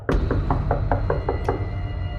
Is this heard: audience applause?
no